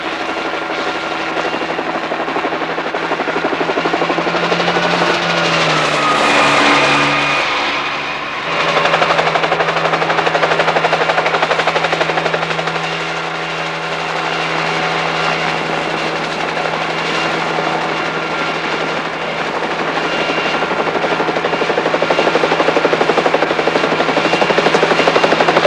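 A helicopter flies nearby, its rotor a loud steady roar that swells, dips briefly as it passes, then holds on for the rest of the clip with no talk.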